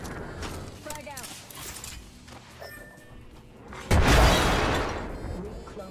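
Frag grenade blast in the shooter game Apex Legends, a sudden loud burst partway through that decays into a rumbling tail, following game effects and players talking.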